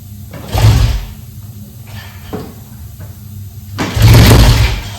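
A 1967 Triumph T100C motorcycle being kick-started: two loud, close thumping kick strokes about three seconds apart, the second swelling into a brief engine burst, with quiet shuffling between.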